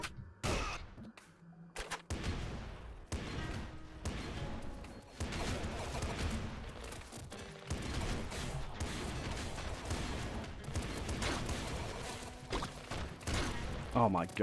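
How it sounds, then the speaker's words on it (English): Rapid weapon fire and repeated explosions in the Nuclear Throne video game, from a golden car launcher: dense bursts of booms and crashes that keep going with barely a pause. "Golden car launcher."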